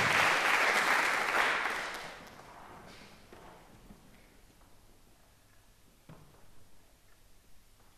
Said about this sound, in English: Meng Li, let's give him a big applause